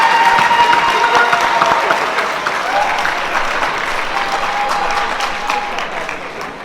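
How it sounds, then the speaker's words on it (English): An audience at a high school underclass awards ceremony applauds students receiving academic letters, a loud, dense round of clapping that eases gradually, with a few faint voices and cheers in the crowd. "Give them a round of applause."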